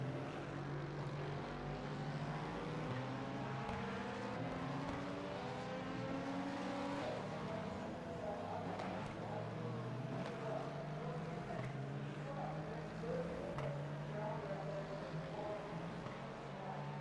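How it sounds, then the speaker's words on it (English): Cadillac race car in the iRacing sim at Daytona, a steady sustained engine drone with shifting pitch running throughout, loud and continuous, no talk over it. "Cadillac sounds better outside the car than it does inside"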